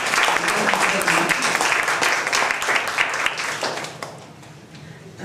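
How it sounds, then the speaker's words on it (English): An audience at a library reading room dedication claps in a dense, sustained round of applause that gradually thins and fades toward the end. "a round of applause"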